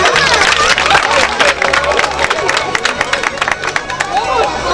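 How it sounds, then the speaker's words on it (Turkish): Applause rising from an audience at a 2014 Turkish village solidarity night, mixed with crowd hubbub, loud and sustained over music with a steady low beat. "Alkışla."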